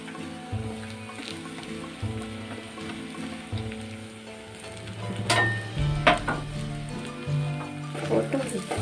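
Dried prawns sizzle and crackle steadily in hot oil with the heat switched off, with stirring and occasional scraping sounds close by, while a person talks over it.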